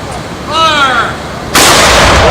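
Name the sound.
cannon fired in 21 cannon salute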